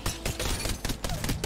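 The Rampage light machine gun firing in Apex Legends, a steady run of rapid, fairly quiet shots at an even rhythm, with no talk over it.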